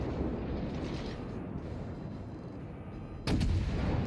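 Naval guns of the USS Cleveland cruiser booming in World of Warships, a dense continuous rumble of gunfire with a sharper, louder salvo crashing in near the end.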